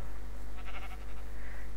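A sheep bleats in a Minecraft survival game, a short wavering cry heard once over a steady low background hum, fairly close and alone without talk.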